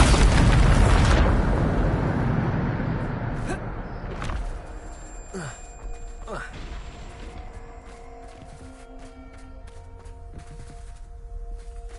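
A Bombarda explosion spell in the video game Hogwarts Legacy lands as a loud, deep blast that rumbles and decays over several seconds, followed by fainter magical chimes and whooshes.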